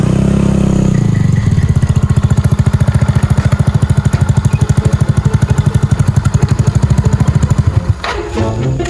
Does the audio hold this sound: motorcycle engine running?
yes